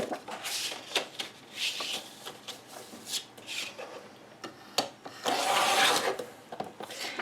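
Paper is cut down with a trimmer while making a Heartfelt Creations butterfly medley mini album, giving close, repeated raspy scraping strokes in uneven bursts, with a longer, louder rasp near the end.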